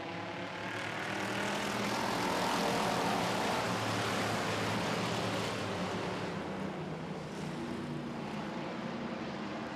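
Pure Stock race cars accelerate together at the green flag of a feature event, their engines blending into a loud, continuous roaring drone that swells slightly and holds steady without any voices.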